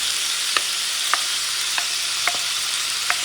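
Rice stir-fried with vegetables in a hot pan, a dense steady sizzle with five sharp scrapes of the utensil spaced about every half second, close and loud.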